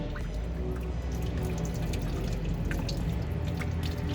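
Coolant drips and trickles from a 6.7 truck engine, soft irregular patters over a low steady hum, faint and close.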